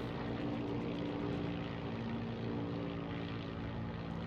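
Curtiss O-52 Owl propeller plane in the video game Heroes & Generals, its engine droning steadily and evenly in flight with a low humming tone and rapid propeller pulsing, alone without speech.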